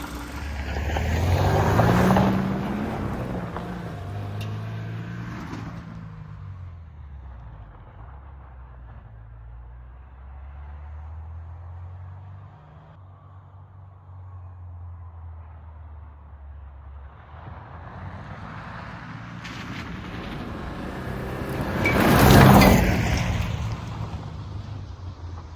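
A Subaru Impreza with an EJ22 engine, just fitted with a new timing belt, pulls away on a test drive: engine rumble rises and shifts through gears, settles into steady cruising, then swells again near the end with no talk.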